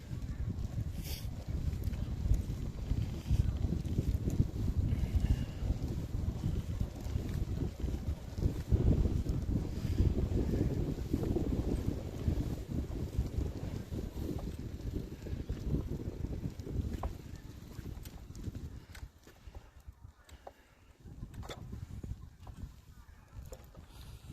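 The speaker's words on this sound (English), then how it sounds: "The wind will screw us up a little bit again here, I guess, because we get this side" Steady, heavy wind rush buffets the microphone while cycling outdoors in the Netherlands, a continuous low roar that eases toward the end.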